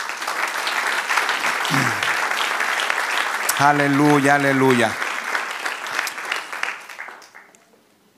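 A church congregation applauds in praise during a service, a broad wash of clapping that continues under voices calling out and singing, then fades away near the end.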